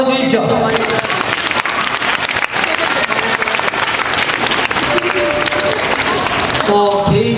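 A hall full of people claps at a school principal's retirement ceremony, dense sustained applause that stays loud and even throughout, with a few voices briefly audible near the start and end.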